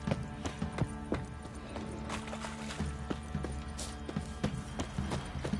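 Video game horse hooves clip-clop in a steady, fairly quick rhythm, moderately close, with a faint background hum and no talking.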